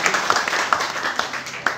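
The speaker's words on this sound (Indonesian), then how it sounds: "mari beri aplaus ibu bunda kita" Brief audience applause at an Indonesian parliament member's community gathering: a short burst of scattered hand claps in a room, with a little background voice mixed in.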